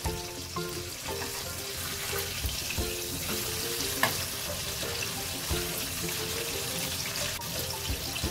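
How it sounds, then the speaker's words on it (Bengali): Pomfret fish lightly frying in oil on its second side, a soft, continuous sizzle with faint crackles and an occasional small clink, quiet and close with no talk. "এখন উল্টো পিঠটাও খুব হালকা করে ভেজে নেব।"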